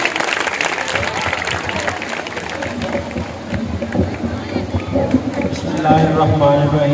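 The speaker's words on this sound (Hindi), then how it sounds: "भरपूर तालियों में प्लीज।" An audience at a welfare organization event in Arifwala, Pakpattan applauds to welcome a speaker to the stage, loud dense clapping that tapers as a voice and background sounds take over near the end.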